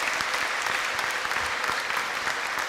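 Dense, steady applause from a church congregation at a Valentine's Day gathering in Gikondo, many hands clapping continuously at a close, even level with no voices standing out.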